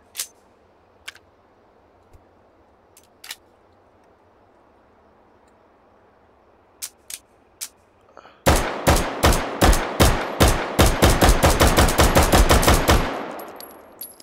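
Pistol gunfire in the virtual-reality shooter H3VR: a few sparse single shots with long pauses, then a rapid, loud, sustained burst of evenly spaced shots lasting several seconds before it stops.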